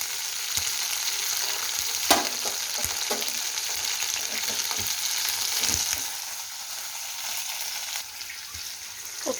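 Chopped green chillies fry in hot oil in a kadai, a steady bright sizzle heard up close with scattered clicks and scrapes of stirring throughout.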